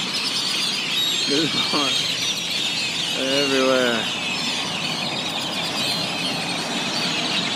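A flock of birds calls outdoors, a steady chorus of chirps and squawks with a few clucking, fowl-like calls standing out, while people talk over it.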